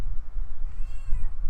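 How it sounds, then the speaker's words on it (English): A cat meows once, a drawn-out cry standing out briefly over low background noise. "you might hear a cat in the background"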